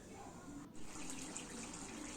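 Water being poured into a pot of soybean curry cooking with potatoes, a steady, quiet liquid rush that runs continuously with no talk over it.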